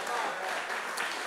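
A church congregation claps together in a dense, steady patter of many hands, fairly loud and continuous, with voices mixed into the crowd noise.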